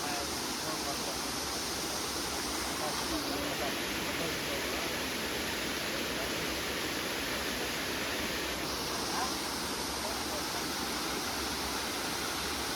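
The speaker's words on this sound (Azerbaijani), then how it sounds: "Bu da birinci şəlaləmiz." A waterfall near Avyarud village in Astara roars with a constant, full rush of falling water, close and unbroken for the whole stretch, with no voices over it.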